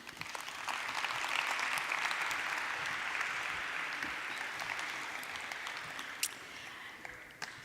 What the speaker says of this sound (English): give me a big round of applause to my participants as they descend off stage